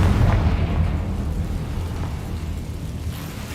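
Confringo blasting spell from Hogwarts Legacy detonating close and loud as one heavy booming blast that rumbles and slowly fades without a break, no voice over it.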